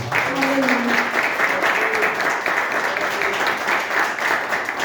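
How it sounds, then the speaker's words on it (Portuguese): A church congregation applauds steadily and loudly throughout, dense clapping filling the space with a few voices faintly mixed in. "Mais palmas que glorificam o nome do Senhor Jesus"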